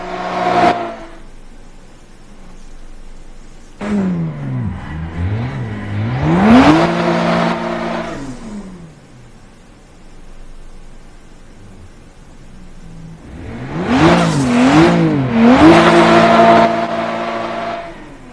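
Car engine from a racing video game during a lap, revving up and down in loud, whining bursts, with one brief burst, a louder rising and falling stretch, a quieter lull, then another strong surge of revs.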